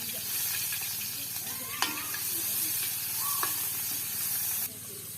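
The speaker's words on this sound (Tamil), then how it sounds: "வெங்காயம் தாளிக்கிறதுக்காக நான் இப்போ கொஞ்சம் ஒரு எண்ணெய் விடுவோம்." Steady hiss and sizzle of onions frying in hot oil, with a few clinks of a utensil against the pan.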